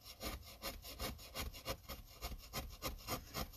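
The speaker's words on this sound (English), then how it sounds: "I'm going to clean up these edges slightly. And I'm going to do that with a straight chisel" A double-edged straight chisel scrapes the edges of a wooden relief carving in quick, rhythmic strokes, about a dozen rasping passes, close and steady with no voices.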